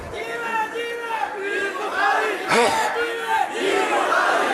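A large crowd at a religious gathering in Punj Pir shouts slogans together, a loud, dense roar of many voices rising and falling in waves throughout.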